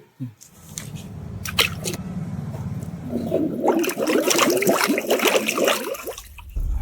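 Air bubbles up in a bucket of water, starting as a low churning gurgle and swelling into a louder, busier stream of bubbling and splashing before cutting off.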